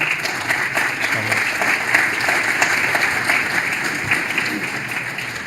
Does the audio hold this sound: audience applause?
yes